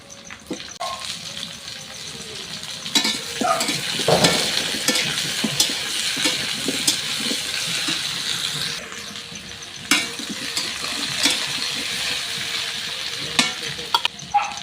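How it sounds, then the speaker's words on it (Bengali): Cut potatoes go one by one into onions frying in a pan, giving a soft continuous sizzle broken by clattering stirs and knocks of utensils, with a brief splash of running water. "এখানে আমি পেঁয়াজটা আর একটু বেশি ভাজা হয়ে যাওয়ার আগে এখানে আমি কেটে রাখা আলুগুলো দিয়ে দেবো একে একে"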